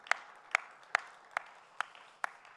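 Six sparse, evenly spaced claps ring out faintly in a church congregation during a Wednesday worship service, with no voices in between.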